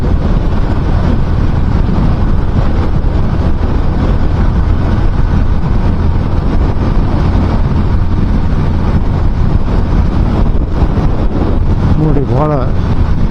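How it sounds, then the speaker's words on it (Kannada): Strong wind buffets the microphone on a motorcycle riding along the Tikota road, a loud, continuous roaring rumble. A brief voice is heard near the end. "ಗಾಳಿ ಸಂಪೂರ್ಣವಾಗಿ ಪ್ರೆಷರ್ ಭಾಳ ತರ್ತಾ ಇದೆ ಗಾಡಿನ."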